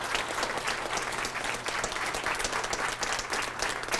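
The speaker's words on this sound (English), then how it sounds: "So we want to give our panelists, who now you can clap for, hopefully, because I think they've done a great job." A town hall audience applauds its panelists after a televised discussion on gun violence in America, a steady, even wash of many hands clapping throughout with no speech on top.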